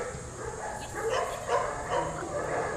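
A dog gives a few short, muffled barks and yips against a low background murmur, fairly near but not loud.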